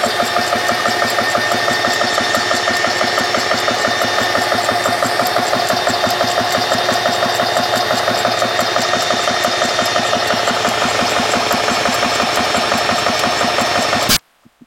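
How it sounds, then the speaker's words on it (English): An air compressor runs alongside several cooling fans, producing a loud, steady mechanical hum with a rapid, even pulsing throughout that cuts off abruptly near the end. "I think the compressor itself is actually quieter than all these fans"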